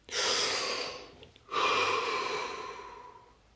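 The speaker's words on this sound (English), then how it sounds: "Deep breath." A slow, deep breath drawn in and then released in a long, audible exhale, close and clear, with a brief quiet pause between the two phases and no talking.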